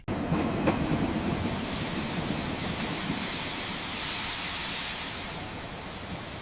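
A train pulls into a large, busy railway station in Kolkata, giving a continuous rumble with a broad steamy hiss and a brief clank near the start.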